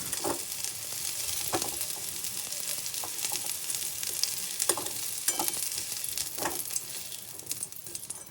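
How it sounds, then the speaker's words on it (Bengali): Cauliflower florets with salt and turmeric fry over medium-high heat in a kadai, making a bright, continuous sizzle broken by several short scraping stirs close by. "মিডিয়াম টু হাই আঁচ করে ফুলকপিগুলোকে সুন্দর করে হালকা লালচে লালচে ভাব করে ভেজে আমি তুলে নেব"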